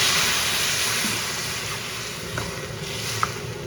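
Water poured into a pan of boiled, chopped potato curry for puri, a steady close wash of rushing noise that runs the whole time, with faint clinks near the end.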